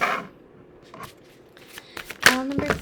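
Tarot cards being shuffled by hand in a few quick papery bursts, close and fairly quiet, building to a louder riffling flurry near the end.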